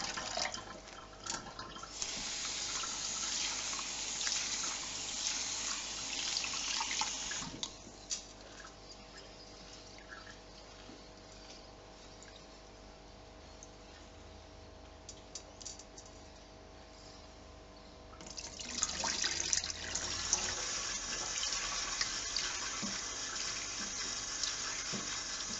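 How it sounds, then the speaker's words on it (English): Running tap water pours into a bowl while basmati rice is washed, loud and steady at first, dropping to quiet sloshing and trickles mid-way, then the tap gushing again near the end. "we will keep washing it and changing the water until the water clears from all the starch"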